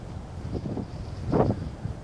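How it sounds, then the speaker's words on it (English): Strong wind gusting across an open lake with no shelter, a steady low rumble of buffeting on the microphone that surges in a couple of heavier blasts. "it's really windy now. This lake is always windy."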